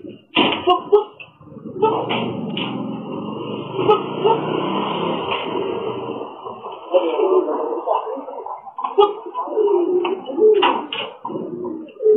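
A racing pigeon arrives at a home loft, with pigeon coos and wing or perch noises close by, knocking and clatter in between, and people talking over much of it.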